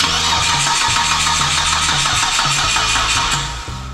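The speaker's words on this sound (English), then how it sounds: "Cranking sounded normal, maybe a little bit labored" A 2008 Mitsubishi Eclipse with a faulty dead battery cranks steadily without firing. The starter chugs in an even, slightly labored rhythm, loud and close, for about four seconds before it drops off.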